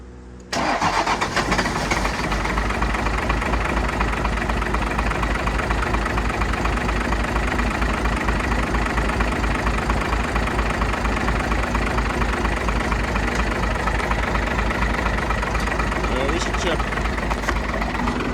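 A seized and flooded Dodge W350 pickup's 12-valve diesel engine cranks and catches, then runs loud and close with a steady rough clatter for the rest of the stretch, its noise covering everything else.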